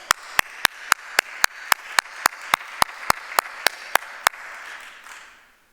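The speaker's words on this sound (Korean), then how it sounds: "온 가족에게 크게 한번 박수 한번 보내주십시다" Church congregation at a Sunday worship service clapping in unison, about sixteen sharp, evenly spaced claps at a brisk steady beat, loud and close, then trailing off into a fading murmur.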